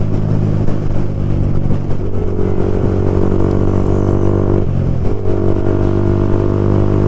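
A Yamaha R15 V4 motorcycle fitted with a new aftermarket exhaust idles loud and close, a steady low throb with a slight dip near the end and no talk over it.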